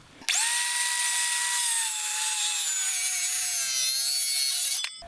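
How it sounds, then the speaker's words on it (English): A wooden decking board's angled end is cut through in one sustained pass, producing a loud, close, continuous whining tone that holds steady for nearly five seconds before stopping abruptly. "So now I'm going to take my saw"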